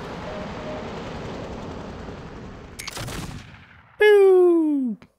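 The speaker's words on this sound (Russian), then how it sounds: "Да ты эту арту ставишь, а потом она стреляет." In the MechCommander 2 video game, an artillery piece fires a booming blast over a constant rumble of battle, followed by a loud, falling whistle that fades out.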